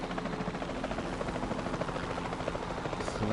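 Helicopter in the video game Jurassic World Evolution 2, a steady close rotor drone that holds at constant loudness for the whole stretch with no talk over it.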